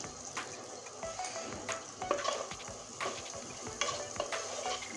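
Cumin and coriander spices frying and being stirred in oil for a pomfret (rupchanda) fish curry, a steady close sizzle with repeated scraping stir strokes throughout, no talking.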